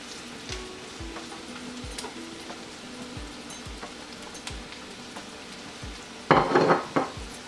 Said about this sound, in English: Stir everything well together